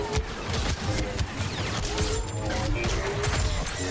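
Grenade explosions and battle noise in the Star Wars Battlefront 2 video game: a dense, continuous roar of blasts and crashes, loud and unbroken throughout.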